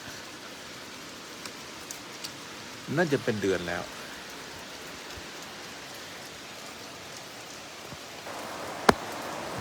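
Light rain falls at Buddhapadipa Temple in London, a soft, steady patter on surfaces throughout, with a brief spoken phrase early on and a single sharp tap near the end.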